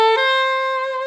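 A saxophone plays a brief tone from a minor 7 chord, with a quick pitch change at the start, then holds the note steady and loud, with no voices.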